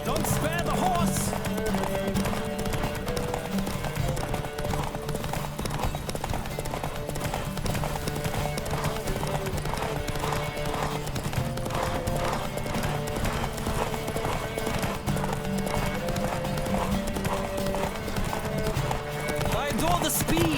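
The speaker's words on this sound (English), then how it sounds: "Don't spare the horse!" Horse hooves galloping in The Witcher 3: Wild Hunt during a race, a rapid steady clip-clop rhythm throughout, with a neigh, game music and occasional voices over it.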